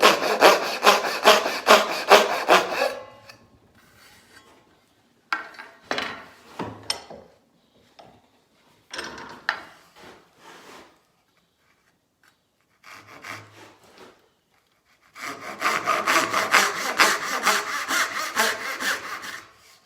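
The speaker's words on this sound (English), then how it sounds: "it'll position the saw directly into that line" Hand saw cutting wood in a small home workshop, a steady rhythmic stroke of rasping cuts at the start, then scattered short strokes and pauses, and a final loud run of fast back-and-forth sawing, close and alone.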